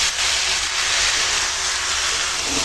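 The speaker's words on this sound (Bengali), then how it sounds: "মাংসটা এখন কষাচ্ছি" Chicken marinated with ginger and garlic sizzles in hot mustard oil as it is sautéed for masala chicken, giving a steady, close, even hiss with no voices.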